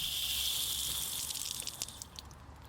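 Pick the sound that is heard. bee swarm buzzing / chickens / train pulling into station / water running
water running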